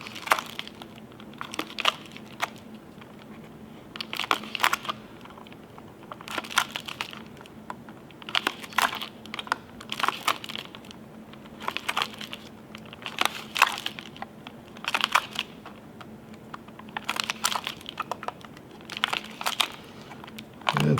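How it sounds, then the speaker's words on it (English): Snipping the overhang of material around a camping fuel canister at regular one-inch intervals, a steady series of short crisp cutting crunches repeating every second or two, close up with no talk. "we're going to snip in 1 inch intervals"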